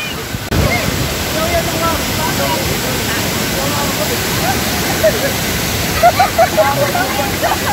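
Tay-Tay Falls in Laguna roars as a loud, constant broadband rush of falling water, with people's voices and shouts faintly rising over it.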